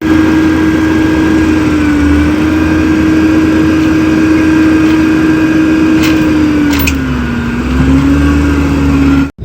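A small engine on a lawn aerator runs nearby in a steady, loud drone with a slight dip in pitch partway through, continuing until it cuts off at the very end.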